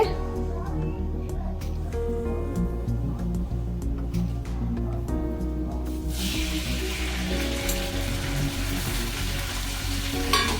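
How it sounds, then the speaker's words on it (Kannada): Coriander leaves fry in a spoonful of oil in a pan for chutney; a voice talks at first, then a loud, dense sizzle bursts in and continues under the speech. "ಚಮಚದಷ್ಟು ಎಣ್ಣೆ ಹಾಕ್ತೀನಿ ರೀ ಕೊತ್ತಂಬರಿ ಫ್ರೈ ಮಾಡ್ಕೊಂತೀನಿ"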